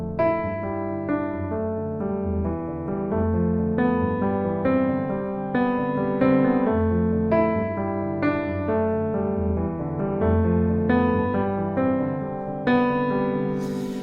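Solo piano plays an arrangement of a guitar riff, a flowing melodic line over sustained low chords, clear and close.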